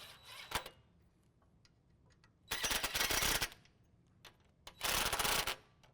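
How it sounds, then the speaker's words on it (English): An electric impact wrench spins nuts onto threaded bolts while a lift kit goes onto a 2016 Chevy Silverado 1500, sounding in two loud rattling bursts of about a second each, after a short earlier burst, with quiet pauses between. "we'll use an electric impact just to spin the threads on"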